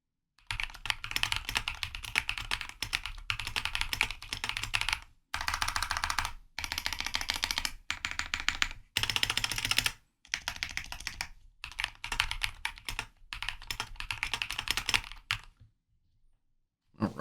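Bursts of typing on a mechanical keyboard fitted with Chosfox Hanami Dango tactile switches, crisp close-up clacks in steady runs broken by short pauses, with no talking.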